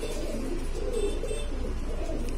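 Shahjahanpuri pigeons, white-eyed with black beaks, give soft, continuous low cooing close by, without any talk.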